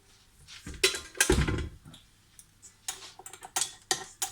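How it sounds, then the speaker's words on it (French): Egg whites being whisked to stiff peaks for waffle batter, a quick ticking, clinking patter of the whisk against the bowl in uneven bursts, close by, with no talk. "nous allons monter les blancs en neige"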